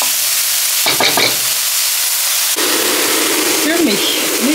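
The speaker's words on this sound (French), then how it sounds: "Et je vais mélanger le tout." Onions fry with nutmeg in a pan, a loud, steady close sizzle with brief stirring scrapes partway through and a sharper burst of frying later on.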